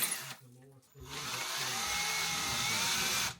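A power drill bores holes into a wall for plugs, starting with a short burst, then after a brief pause running in one long steady whine that cuts off abruptly at the end.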